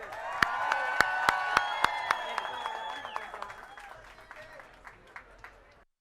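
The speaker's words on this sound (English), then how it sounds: "celebrate with us by cheering as we unveil the star for our newest star today" Crowd applause and cheering at a Hollywood Walk of Fame star unveiling ceremony for a singer, with sharp claps and a swelling roar from a fairly close outdoor audience that slowly fades over several seconds.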